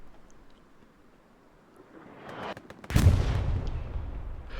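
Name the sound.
artillery fire in a video game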